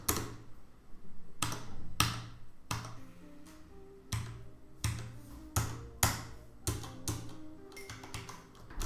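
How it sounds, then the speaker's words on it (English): Single key presses on a Master Key Pro S mechanical keyboard with Cherry MX Brown switches, about a dozen separate sharp clacks spaced roughly half a second to a second apart, close and clear in a quiet room. "the Master Key Pro S mechanical Cherry MX Brown switches with single key press"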